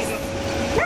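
A dog gives a short yip or bark near the end, close and fairly loud, over steady background noise and movement on what sounds like a tram ride.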